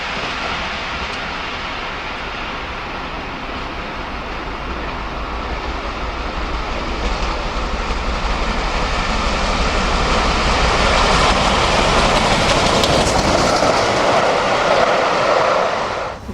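British steam locomotive Tor Valley passes at Winchfield, a broad steady roar swelling gradually toward a peak near the end before dropping away abruptly.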